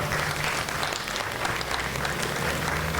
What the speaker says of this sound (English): Can we also ask you to join in a round of applause for our elected officials who are here today?